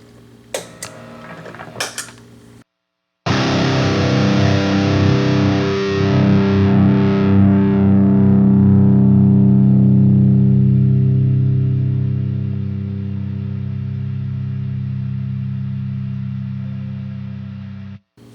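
Distorted electric guitar struck after a few short muted picks, a loud sustained chord ringing and slowly fading before a noise gate pedal abruptly cuts it to silence.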